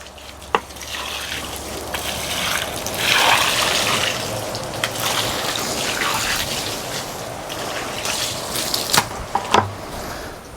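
Water poured over a rotten red oak log, a continuous splashing trickle for about ten seconds with a louder gush early on and a few sharp taps and knocks toward the end, close up and without speech.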